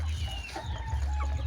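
A native Indonesian kampung chicken clucking in short, soft bursts over a low steady rumble, fairly close, with no talk.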